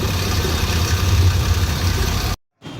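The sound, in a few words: car engine idling and misfiring from a blown head gasket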